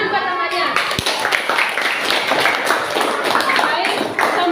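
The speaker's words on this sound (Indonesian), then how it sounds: "Tepuk tangan buat temannya." Students in an Indonesian classroom clap for their classmates after a history presentation, a brief burst of scattered hand claps and taps.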